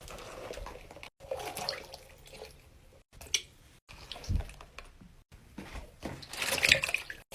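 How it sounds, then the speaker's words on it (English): Water runs and splashes into a kitchen sink, and soft squishy stress balls drop in. Close, intermittent bursts of sloshing and squelching are broken by brief pauses. "Now let's go fill up the sink with water."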